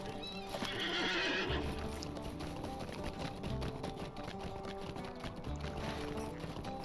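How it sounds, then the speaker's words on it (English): A horse ridden across the Shire in The Lord of the Rings Online, its hooves clip-clopping in a steady rhythm with a whinny near the start, close and clear over soft ambient game music. "So we'll probably take the horse to get to Stock."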